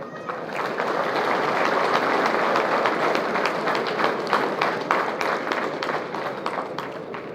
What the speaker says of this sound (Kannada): ಅದಕ್ಕೆ ನೋಡಿ ಚಪ್ಪಾಳೆ ಬಹಳ ತಡ್ತಾ ಇದ್ದಾರೆ.